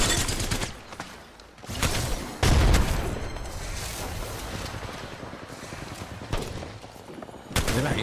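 Minigun fire in a team deathmatch shooter comes as loud, rapid sustained bursts with a few sharp heavy booms, the firing swelling and easing over several seconds.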